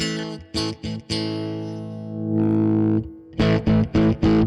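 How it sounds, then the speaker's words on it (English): A distorted Fender Eric Clapton Signature Stratocaster with its 25 dB mid boost engaged plays choppy chords, then a long sustained ringing note, then more short stabs with a thick, boosted, gritty midrange. "when you kick this thing in, 25 dB is a pretty sizable boost"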